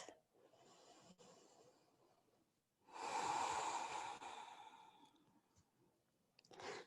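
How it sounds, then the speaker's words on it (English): A deep full-body breath during a yoga power flow session, with quiet breathing at first, then one long loud exhale through the nose and mouth that fades out, followed by another breath at the end. "One more full body breath."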